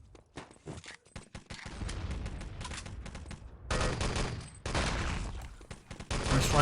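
Rifle and other gunfire in the online team shooter Enemy Territory, during a competitive grand final match on the Malibu map: rapid bursts of loud shots with clustered fusillades and brief gaps, close and dense, with no talk.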